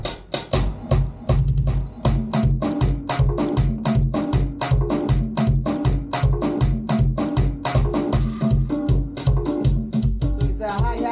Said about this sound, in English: with the kick, and snare, it would sound something like this.